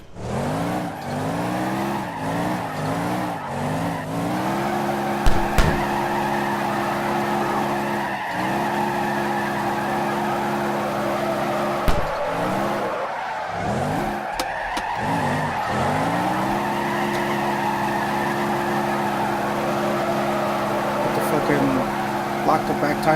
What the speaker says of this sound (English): Lock the back tires up with the handbrake just so that I wouldn't keep going.